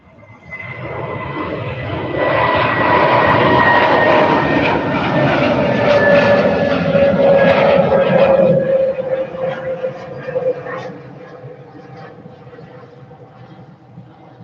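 Airliner departing Manchester Airport for Munich, its engine roar building and holding loud and near for several seconds, then fading away into the distance.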